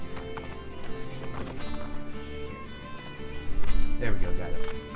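Horse hooves clip-clop at a gallop in Assassin's Creed Brotherhood, a steady rhythmic pounding that grows louder near the end, with a brief whinny and game sounds mixed with someone talking.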